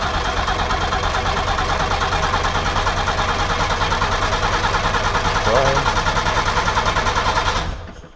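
An old car engine that had sat for many years turns over on choke, a loud, close, rhythmic chugging that holds steady before cutting out abruptly near the end.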